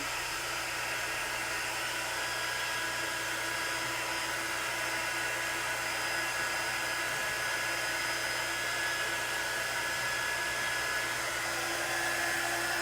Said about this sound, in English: so this is a heat gun